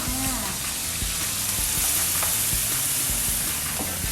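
Glass noodles with shrimp and chili paste stir-fry in a pan after water is added, making a dense, continuous close-up sizzle with scraping and stirring clatters throughout.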